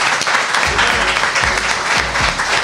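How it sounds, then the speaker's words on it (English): A live audience at the House of Photography in London applauds two guest speakers, brisk continuous clapping filling the room with a few low thumps underneath. "we should give them a round of applause as well for Dan and Kat Shearer"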